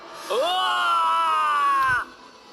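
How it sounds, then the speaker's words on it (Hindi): A single loud, sustained scream in a Hindi horror cartoon story rises sharply, holds for about two seconds, then cuts off. "तभी एक जोरों की चीख फिजा में गूंजी"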